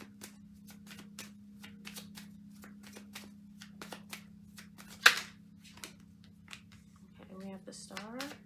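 Tarot cards being shuffled by hand, a run of quick crisp riffling taps and flicks with one sharper slap, close and fairly quiet over a low hum, with a voice starting near the end.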